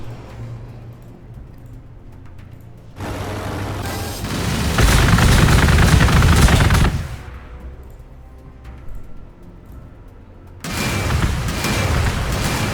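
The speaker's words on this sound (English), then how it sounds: "let's go ahead and fire at them with our tower" A defensive tower fires on enemy units in the strategy game Warhammer 40,000: Gladius, with loud roaring bursts of gunfire in two dense blocks separated by a quieter lull.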